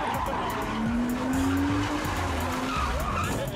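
A car skids and drifts at a car show, its tires squealing in a long rising note over steady engine and crowd noise nearby.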